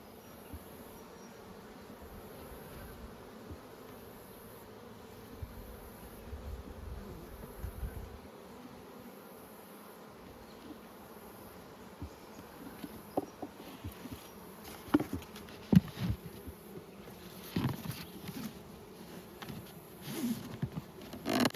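Honey bees buzz steadily around nucleus hives in good conditions at Nymboida, a continuous close insect drone with occasional louder passes as individual bees fly near.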